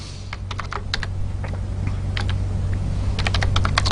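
Someone types C code on a computer keyboard, close and clear clusters of quick key clicks in uneven bursts over a steady low electrical hum.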